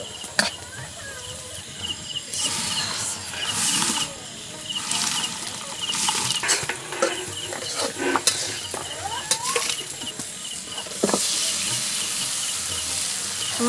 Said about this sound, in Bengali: এইদিকে হচ্ছে আমি একটু মাংস রান্না করতেছি আয়াতের বাবার পছন্দের মাংস আচারি মাংস